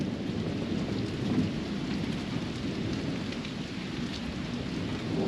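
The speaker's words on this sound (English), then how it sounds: "It was heavy rain this morning." Heavy morning rain pours steadily in a thunderstorm, a dense, even hiss with a deep thunder rumble beneath, continuous and fairly loud, with no one speaking.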